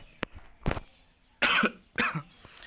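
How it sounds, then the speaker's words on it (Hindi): Several dry coughs come in short bursts, a couple of small ones followed by two louder, harsher coughs close to the microphone. "मुझे खांसी आ रही है"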